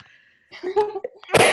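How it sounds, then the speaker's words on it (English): A single sharp sneeze bursts out close by after a brief sharp intake of breath, loud and abrupt. "Oh, I'm going to sneeze."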